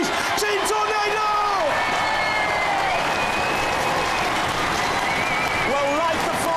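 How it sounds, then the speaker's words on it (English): A Robot Wars studio audience applauds and whoops for the UK champions, Team Tornado, in a loud, dense, continuous roar of clapping that fills the arena, with an announcer's voice heard faintly over it. "One more last round of applause for the UK champions, please."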